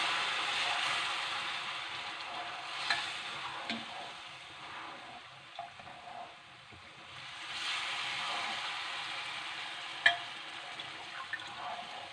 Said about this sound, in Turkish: Şimdi buna ağır ağır eritmiş olduğumuz şerbetimizi döküyoruz.